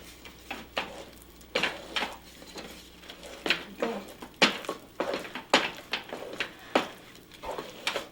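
A spoon stirs thick cornmeal cou cou in a pot over a medium flame, giving irregular scraping knocks and soft thuds at an uneven, laboring pace, close and fairly clear.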